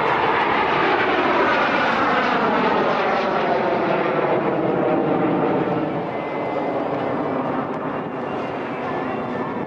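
A jet aircraft roars overhead at the BIAS air show in Bucharest, a loud, broad rushing whine whose pitch slowly sweeps downward as it passes, fading slightly toward the end.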